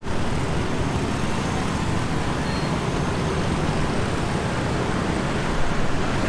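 Traffic at a road intersection in Thailand forms a dense, steady roar of engines and tyres, a continuous broadband wash without distinct horns or standout vehicles.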